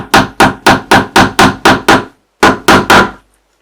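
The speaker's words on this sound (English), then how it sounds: "And then just hammer home a couple of tacks." Tacks hammered into the wooden keel of a 1:200 Prinz Eugen model ship kit: eight sharp, evenly spaced hammer strikes, a short pause, then three more, close and loud with no talk.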